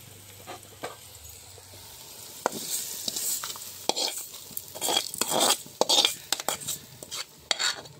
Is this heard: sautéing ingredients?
yes